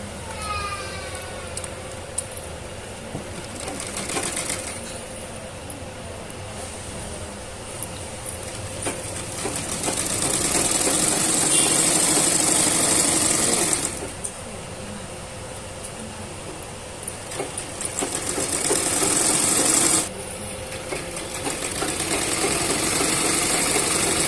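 An electric sewing machine stitches a frock for a 7–8 year old girl, its steady mechanical whir rising in longer bursts of faster running between quieter stretches, with someone talking throughout.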